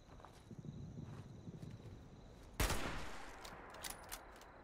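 A single gunshot in the video game Fallout 76 cracks out loud and close over a faint rustling background, trailing off in a short decay.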